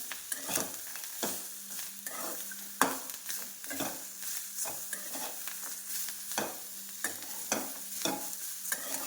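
Green chilli thecha with chopped coriander stirred and mixed in a pan, a spoon scraping in steady repeated strokes over a soft sizzle, close and fairly quiet with no talking.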